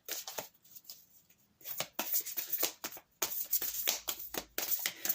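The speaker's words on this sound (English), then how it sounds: "These are very difficult to shuffle, these cards, because they are very velvety." Velvety tarot cards being shuffled by hand, a run of soft papery riffles and flicks in uneven bursts, close and moderately loud, with short pauses between bursts.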